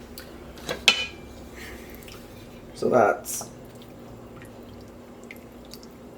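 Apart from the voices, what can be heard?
water rinsing out a tomato sauce jar into pot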